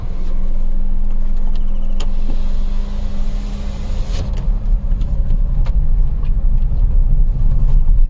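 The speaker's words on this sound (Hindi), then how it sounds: "गाड़ी बढ़ा रहा हूँ" A car drives forward along a jungle road in a tiger reserve near Harsil and Gangotri, its engine a steady close rumble with tyre and road noise throughout, no talking.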